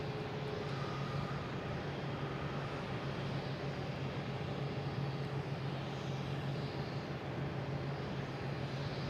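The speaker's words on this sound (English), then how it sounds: "Our next taking off is Delta, heading to, I think it's Fort Myers," A Delta airliner takes off at Boston Logan airport, its jet engines giving a steady, broad rumbling roar with a low hum that holds at a constant distance for several seconds.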